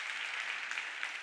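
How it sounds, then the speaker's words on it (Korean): A church congregation claps together at a revival meeting, a dense, steady patter of many hands held at an even level for a little over a second, with no voices rising above it. "박수 한번 해주세요"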